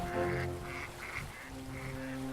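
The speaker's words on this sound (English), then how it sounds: "ducks" Several ducks at a Louisville park quack in a run of short, repeated nasal calls, fairly close and clear, with brief gaps between bursts and a low steady background beneath.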